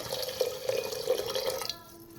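Water pours steadily into a pressure cooker holding chicken soup ingredients, a close continuous splashing trickle that tapers off at the end.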